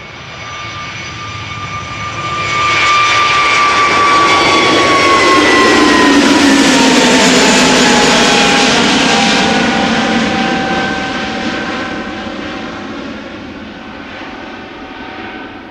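Jet airliners taking off from the Polderbaan runway at Schiphol, a loud close-up roar that swells over a few seconds, holds steady, then slowly fades as the aircraft climbs away, with no talking.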